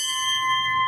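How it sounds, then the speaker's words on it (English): A memorial bell rings out once at a submarine remembrance ceremony, a loud, steady metallic tone with clear sustained overtones and no talk over it. "Strike the bell one more time."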